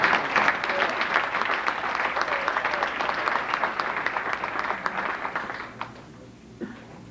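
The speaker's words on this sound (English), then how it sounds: "How about a big round of applause for Fred Hensley?" An audience applauds at a 1994 fifteenth birthday celebration for Big Red. The clapping is dense and sustained, then thins out and fades over the last couple of seconds.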